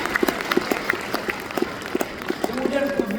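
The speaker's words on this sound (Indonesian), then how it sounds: "Tepuk tangan dulu buat kampus yang tercinta ini." Graduation ceremony audience clapping for the campus, scattered hand claps that swell into steady applause while a voice keeps talking over it.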